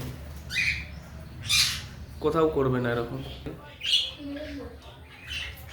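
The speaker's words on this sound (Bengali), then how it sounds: "নতুন ঘরেও পাখি আইসে ফটাফট ডিম বাচ্চা করে নিল" Java sparrows in a new nest box squawk in short bursts, close by, mixed with a person talking nearby.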